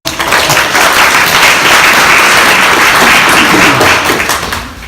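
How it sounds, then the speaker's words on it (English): A crowd applauds a volunteer at a design thinking session, loud close clapping that starts abruptly, holds a full steady roar, then tapers off at the end. "everyone, round of applause for that"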